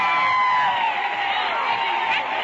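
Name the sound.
crowd cheering for Charles Lindbergh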